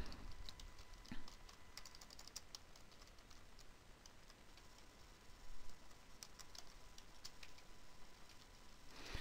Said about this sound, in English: I'll type in, say, ALPHA, then we'll go here and type in, say, Fred Smith